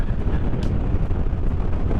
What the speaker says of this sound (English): very windy today, so we'll see if I'm getting pops depending on which direction I'm facing